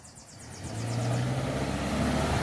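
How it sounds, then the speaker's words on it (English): A car passes on a road near oak woods, its broad engine and tire rumble swelling from faint to loud and steady as it approaches, with no voices. "letting a car go by"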